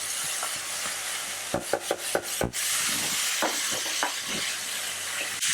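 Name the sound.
beef fillets searing in butter in a pan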